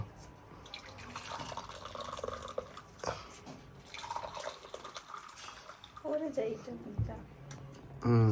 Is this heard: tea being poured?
yes